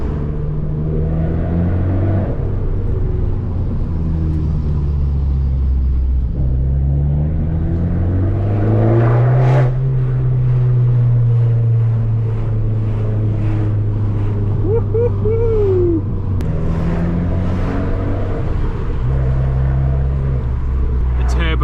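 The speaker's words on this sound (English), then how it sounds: "Sounds bouncing off the walls, the exhaust, the combination of the two when they come together." A deep, throaty car exhaust rumble echoes as if off surrounding walls, swelling and easing with the revs throughout at a slow crawl.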